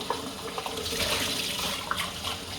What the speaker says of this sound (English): the first step, wash out this mug because I do not know how clean it is